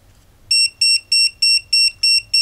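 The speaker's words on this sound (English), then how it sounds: "And it's beeping." A high electronic beep pulses steadily about seven times in quick succession, loud and close, over a faint low hum, from a cheap electronic module with a multi-turn potentiometer signalling low voltage.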